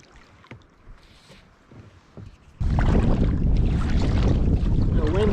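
Wind gusting at about 20 mph on open water during a kayak trip, a quiet lapping start giving way abruptly to loud, steady buffeting roar across the microphone.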